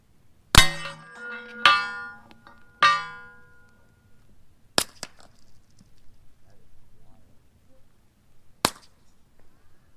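Rifle bullets from an 8.6 Blackout bolt gun firing 315-grain cast loads strike a steel IPSC target, giving five sharp, distant metallic clangs with ringing tails, spaced irregularly over near silence.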